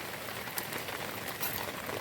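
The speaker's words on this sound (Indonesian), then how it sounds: "Di luar hujan deras" Heavy rain pours steadily outside a beachside campsite during a downpour with strong wind, a dense continuous hiss with faint scattered drop ticks and no voices.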